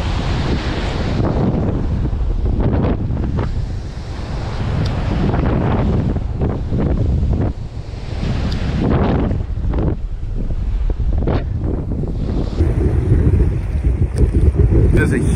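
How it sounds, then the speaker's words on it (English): Strong wind roars and buffets the microphone without letup on a beach shoreline, with rushing water and waves underneath. "Pretty windy."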